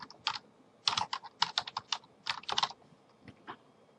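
Close, quiet typing on a computer keyboard comes in quick bursts of key clicks separated by short pauses, with a few lone taps near the end.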